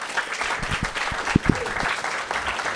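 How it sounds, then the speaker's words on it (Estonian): An audience applauds the jury at a live comedy show, a burst of many hands clapping with a few sharp, loud individual claps standing out near the middle. "teeme veel ühe suure aplausi žüriile Stenile!"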